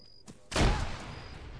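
A single grenade explodes in the military video game Arma, a sudden deep thump with a short rumbling tail, preceded by a faint click.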